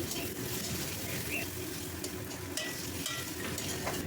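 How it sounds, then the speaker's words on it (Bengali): Chopped onion with green chilli frying in oil spiced with cardamom and cinnamon, a steady close sizzle with soft stirring scrapes throughout, no talk. "পেঁয়াজের সঙ্গে লঙ্কা কুচিও দিচ্ছি পেঁয়াজটা হালকা ভাজা ভাজা হয়ে এলে"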